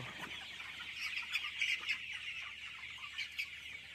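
Chickens on a poultry farm cluck softly and repeatedly, several birds at moderate distance, with no talking over them.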